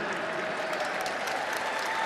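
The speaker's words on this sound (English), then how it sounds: "listen to the crowd cheering this on" A large crowd applauding and cheering at a dog show as an Alaskan Malamute is judged in the Working Group, continuous dense clapping at steady volume with a commentator's voice faintly underneath.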